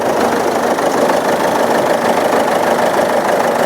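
A Ford EcoSport idles in good condition, a loud, steady mid-pitched engine drone with faint knocking texture running evenly without any voices.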